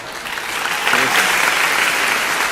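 Girls in an audience clap together, a dense, steady round of applause that swells slightly after the first second and carries on evenly to the end, with no talking over it.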